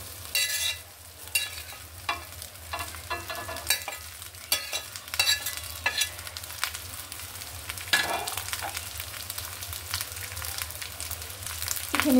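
Cooked rice is stirred and fried with eggs in a pan, a soft continuous sizzle broken by repeated scraping strokes of a spoon, close and moderately quiet, with no talking.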